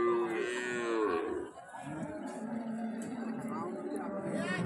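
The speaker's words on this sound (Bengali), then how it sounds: "আমরা দেখবো এখানে শাহিওয়ালের একটা গরু আছে" A Sahiwal cow at a busy cattle market lets out a long, loud moo up close, followed by crowd murmur and chatter in the background.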